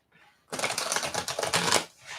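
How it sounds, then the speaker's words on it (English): Quick riffling and slapping of tarot cards being shuffled close by, a rapid papery flutter in two bursts with a brief pause between. "Okay, so I'm gonna shuffle the cards."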